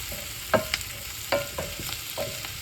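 Onion frying in a pan for Hungarian goulash: a soft, steady sizzle under several distinct scrapes and taps of a spoon stirring against the pan, close by.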